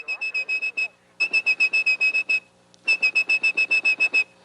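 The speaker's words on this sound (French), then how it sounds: "comme le freaker aveugle Joe Enegresia, vous pouviez passer des appels à travers le réseau en sifflant" A high, piercing whistle blown into a telephone line to trigger the network's mechanical switching, sounding in three bursts of rapid, evenly spaced pulses separated by short pauses.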